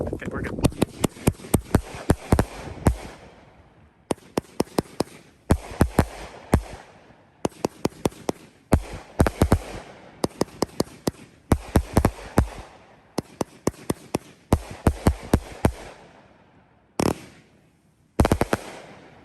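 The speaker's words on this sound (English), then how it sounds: "Voodoo Devils, 30-shot by Phantom Brand Fireworks." A Phantom Brand Voodoo Devils 30-shot firework cake goes off outdoors on wet ground, firing loud rapid bursts of crackling shots in several volleys separated by short pauses, then two final single bangs.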